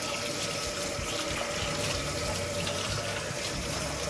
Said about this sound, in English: Let me wash my hands right quick. Wash all that off.